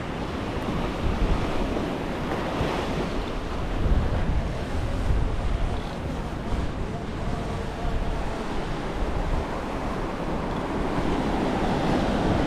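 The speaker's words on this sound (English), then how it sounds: "Can't believe how windy it is down here." Strong wind roars across an open beach while surf breaks continuously, a steady loud wash of wave noise and microphone buffeting throughout with no clear pauses.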